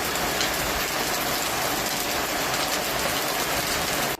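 Heavy hail pounds down steadily in a hailstorm with tennis-ball-sized stones, a dense continuous clatter of impacts close by with no voices.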